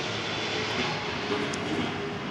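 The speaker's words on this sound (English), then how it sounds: "That's a big Etihad cargo plane going over the top." A big Etihad cargo plane passes overhead at the Abu Dhabi Grand Prix, producing a continuous, even engine rumble and roar that stays fairly distant throughout, with no talk.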